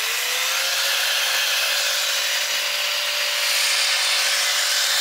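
A power tool cuts away material during an oil cooler install on a Nissan D21 Hardbody truck, giving a loud, steady, unbroken whine and rasp that holds for several seconds.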